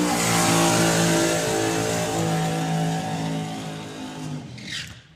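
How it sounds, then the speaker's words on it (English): A Ford Mustang drag car does a burnout in the burnout box at a drag racing meet, its engine roaring loud and steady at high revs before easing off near the end, with no voices over it. "Another great burnout there for John Webster."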